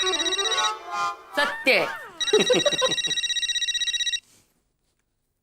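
A telephone rings in a home scene from an Indian TV sitcom: a loud electronic ringtone pulsing in a rapid, even rhythm, then stopping abruptly. Speech comes before and over the first rings.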